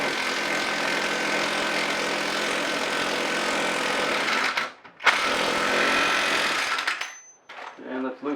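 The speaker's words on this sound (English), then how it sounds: "I'm going to put the impact on it and finish it" An impact wrench hammers loudly and steadily for several seconds while tightening a front wheel bearing on a 2003 Altima, then stops briefly, fires another long burst and falls silent, with a voice at the very end.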